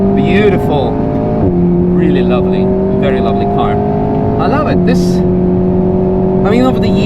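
An Alpine A110S sports car drives at the Nürburgring, its engine droning loud and steady from inside the cabin with several gear-change dips in pitch, while a person talks over it.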